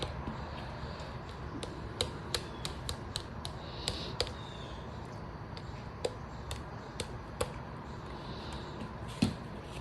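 Soft finger taps dabbing shimmering paste onto a card, a series of light, irregular ticks over steady background hiss, close and fairly faint.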